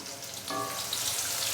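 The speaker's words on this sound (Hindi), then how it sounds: "प्याज को हम तकरीबन 3 से 4 मिनट के लिए हल्का सा फ्राई कर लेंगे" Finely chopped onion dropped into a hot pot of oil for tarka daal, a soft hiss that swells into a steady, gentle sizzle, close and alone.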